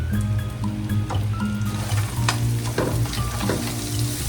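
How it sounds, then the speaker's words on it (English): Eggs sizzle and crackle in hot bacon grease in a pan, a steady close-up frying hiss with occasional scraping stir sounds and no talking. "First gonna mix it up to get the heat of the bacon grease in there."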